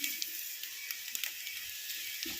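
Semiya and other ingredients fry in a pan for semiya upma, giving a steady close sizzle and hiss with small crackles throughout.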